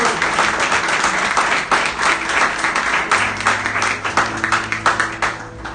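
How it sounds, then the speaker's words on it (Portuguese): A church congregation applauds with joy, a full, continuous round of clapping from many people, fairly loud, with a low sustained tone from instruments or a held note entering partway through. "Se você crê, aplauda o nome dele com alegria no seu coração."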